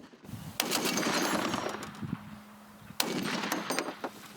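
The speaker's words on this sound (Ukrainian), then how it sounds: "і кулемет Браунін готовий до бою" Loud bursts of Browning machine gun fire close by, two long rapid strings of shots with a short pause between them.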